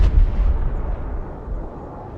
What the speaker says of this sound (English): Airstrike is go for effect.